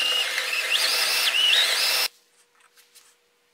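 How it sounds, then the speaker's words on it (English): A power drill bores out a threaded collar inside a scroll saw knob on a Harbor Freight Central Machinery scroll saw, giving a high whine that shifts in pitch for two seconds, then stops abruptly into a few faint handling clicks. "this knob actually has a threaded collar in there, so I'm going to have to drill that out"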